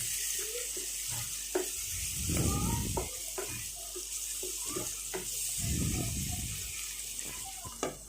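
Chopped onions sizzle in a covered pan for chana dal curry, a soft, continuous frying hiss broken by a few light clicks and two swelling bursts of low rumble.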